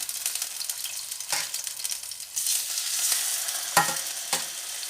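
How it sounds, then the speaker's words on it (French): Salt cod frying in a little oil makes a crackling sizzle that swells and fades, broken by several sharp scrapes and knocks of stirring close by. "Je vais frire ma morue"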